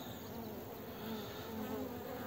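Honey bees at a hive entrance in February, bringing in hazel pollen: a dense, steady buzzing drone of many bees close by, with no breaks.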